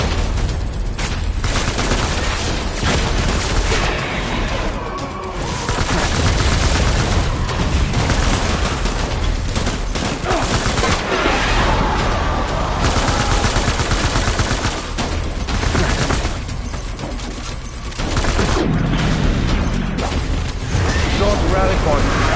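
Dense gunfire and bursts of automatic fire crackle through a battle in the video game Death Stranding, continuous and loud, with voices talking over the shooting.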